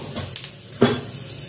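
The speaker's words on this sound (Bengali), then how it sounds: "তার জন্য আমি এই তেলের মধ্যে দুটো শুকনো লঙ্কা দেবো আর দেবো সাদা জিরে ফোড়ন" Dry red chillies and cumin seeds sizzle in hot oil in a kitchen pan, a soft, faint hiss with a sharper crackling burst midway through the short moment.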